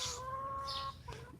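Chickens cluck softly beside a chicken coop, a few short, close calls with a faint background hum and no talking.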